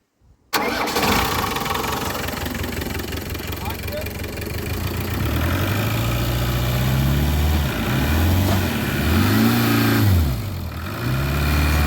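A Land Rover Discovery 1, abandoned on a farm for 20 years, cranks and starts, then idles roughly and revs up and down several times close by. Loud and steady throughout, with people talking over it.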